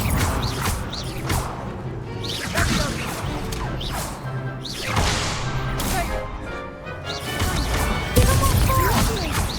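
Fire spells cast in the video game Hogwarts Legacy burst out in repeated whooshing blasts and crashing impacts amid combat noise, loud and layered with overlapping game sounds.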